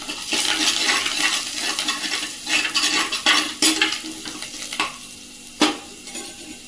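Curry leaves and coriander fry in hot oil for rasam, a soft steady sizzle broken by occasional sharp clinks and scrapes of a utensil stirring in the pot.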